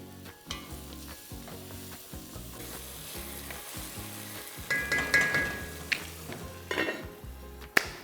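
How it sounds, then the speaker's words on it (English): Tomato gravy for Amritsari chole simmers and sizzles in a pan, a close, steady crackle with occasional clinks and knocks of cookware, growing louder toward the end, with no talking. "And while the gravy is cooking"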